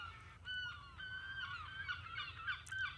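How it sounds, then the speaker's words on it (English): Geese honking at a beach, several overlapping nasal calls repeating irregularly from nearby over a low outdoor rumble. "Got the geese that like the beach."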